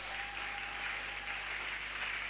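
A church congregation claps continuously under a steady low electrical hum, the applause even and moderately distant with no clear individual claps standing out.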